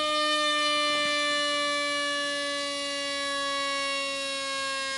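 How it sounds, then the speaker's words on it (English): A supercapacitor-powered free-flight model plane's electric motor whines as it spins down, a strong steady tone with many bright harmonics that drifts slowly lower and carries on without a break, with no one talking. "there goes the motor. You can hear the RPMs dying down."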